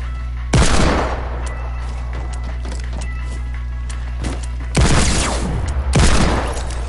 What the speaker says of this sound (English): let's just have a regular gunfight. But with deagles and hunting rifles